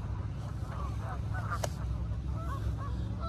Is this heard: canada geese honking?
yes